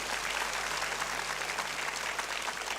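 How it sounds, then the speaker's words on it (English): Debate finals audience gives a continuous wash of applause, dense and even, at a moderate distance with no individual claps standing out. "Audience, I want to hear some applause."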